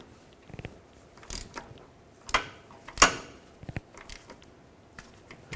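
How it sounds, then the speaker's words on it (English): A ratchet tightens bolts on the passenger-side CV axle of a 2001–2007 Volvo V70, giving short metallic clicking bursts and clanks at irregular intervals, close up and with no talking. "let's tighten these down."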